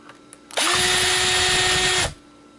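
A power drill removes screws from a device being scrapped for parts: one loud, close, steady high-pitched whine lasting about a second and a half, rising and cutting off sharply.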